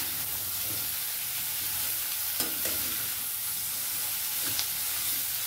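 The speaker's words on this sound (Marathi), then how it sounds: "हे छान परतून घ्यायचे आपल्याला" Steamed cauliflower being stirred and sautéed in a pan, a steady soft sizzle with occasional scrapes and clinks of the spoon, close and alone without talk.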